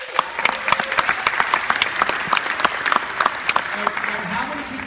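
A movie theater audience at a Ghostbusters opening night Q&A at the Hollywood TCL Chinese Theater bursts into steady, dense applause, with scattered voices mixed in throughout.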